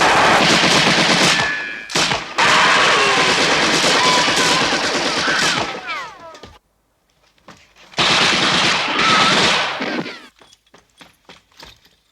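Machine gun fire from the 1978 film The Wild Geese, as mercenaries storm a compound: loud, sustained bursts of automatic gunfire, a pause of near silence, then another long burst trailing off into scattered single shots.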